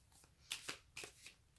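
Tarot cards are shuffled by hand during a reading, making several quick, soft riffling flicks up close at a low level, with no talking.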